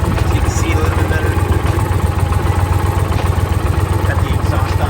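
An Indian PowerPlus motorcycle with the exhaust in quiet mode idles close by, giving a steady, loud low rumble with an even pulsing rhythm that continues throughout, with a person talking over it.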